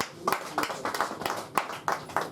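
Scattered, light applause at a press conference for an album launch, with a steady pulse of claps rising and falling, moderately distant in a reverberant space.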